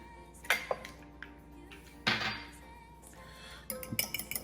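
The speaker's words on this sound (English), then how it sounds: "Give it a little beating." A utensil clinks and taps against a bowl while one egg is beaten, giving a few sharp knocks followed by a quick cluster of light rattling strikes near the end.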